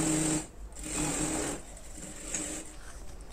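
A sewing machine stitching a kurti seam runs in short close bursts, its fast mechanical whir starting and stopping a few times with quiet gaps between.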